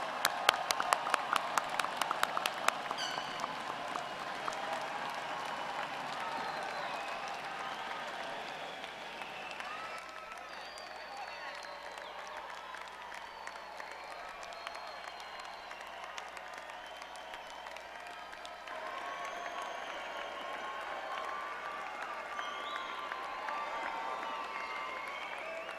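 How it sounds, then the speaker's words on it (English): Graduating class at an undergraduate commencement ceremony receives sustained audience applause from a large crowd, loud at first and then settling into a steady, broad wash of clapping that continues throughout. "Please give all our graduates another round of applause"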